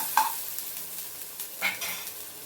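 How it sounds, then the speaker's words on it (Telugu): Ginger pieces sizzle in hot oil and ghee with garlic as they are stirred, a soft steady hiss with a couple of brief scraping stirs, close by and without speech. "ఇప్పుడు అల్లం ముక్కలు వేస్తున్నాను. ఇవి బాగా కలపాలి."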